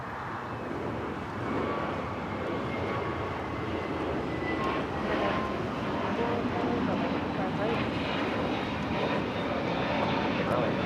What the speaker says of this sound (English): we do have an actual takeoff. JetBlue Flight 2074 heading to JFK. It's a 4-year-old A321neo